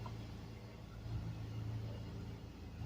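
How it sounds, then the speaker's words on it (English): A small mini truck rolls past at moderate distance, a faint, steady low engine rumble that swells slightly mid-pass and then fades, with no voices. "There's a truck rolling by. Truck, sort of like a mini truck."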